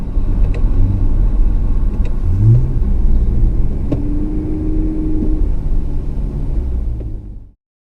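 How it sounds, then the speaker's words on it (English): A 2020 Toyota Avalon TRD engine rumbles low and steady with a throaty sport exhaust, revving briefly partway through before cutting off near the end. "I'm floored by how good this exhaust sounds on this car"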